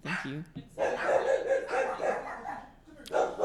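A dog barks repeatedly indoors during a nighttime storm broadcast, with harsh, loud barks filling most of the stretch after a brief opening yelp.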